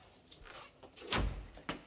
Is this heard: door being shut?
yes